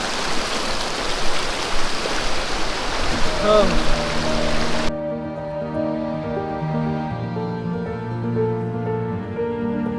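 The Balason river in Darjeeling rushes in a steady broadband roar for about five seconds, then cuts off, leaving voices talking over quieter background.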